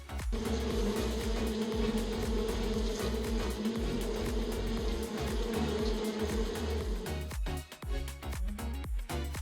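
A dense, steady buzzing drone of bees, loud and continuous, with a slight dip near the end.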